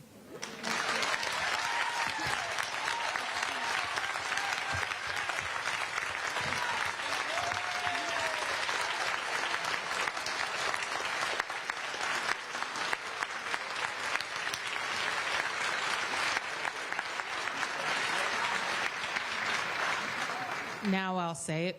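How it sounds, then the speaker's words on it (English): Audience applause at a school committee public hearing, sustained dense clapping from a large room lasting about twenty seconds at steady volume, with a few whoops and cheers mixed in. "Please hold your applause."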